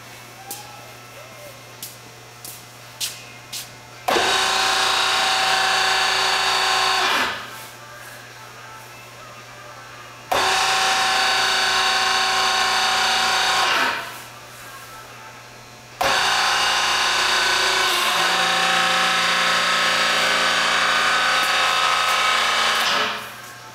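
An Icon Industries Kolmag 134 ton hydraulic press runs a cycle: after a few faint clicks, a loud motor-and-pump whine starts, cuts back, then surges up twice more in long sustained stretches.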